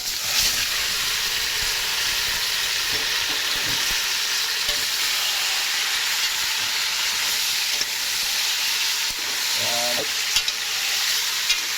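Onion and pork meat sautéing in a pan make a loud, steady hissing sizzle with occasional scrapes and clinks of a utensil.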